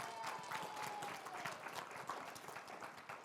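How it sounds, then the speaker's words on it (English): An audience at a panel session on navigating the lifespan applauds a panelist, steady and fairly distant clapping from a moderate crowd that continues evenly throughout. "Let's give Chris a round of applause for being here with us today."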